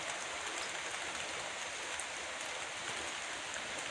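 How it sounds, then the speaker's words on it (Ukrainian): Steady rain falls in an even, continuous hiss, moderately loud and unchanging, with no voices. "Дощ."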